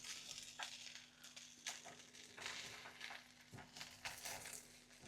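Chicken frying in a pan is stirred, giving a faint sizzle broken by scraping and clattering strokes at irregular intervals, with a low steady hum beneath.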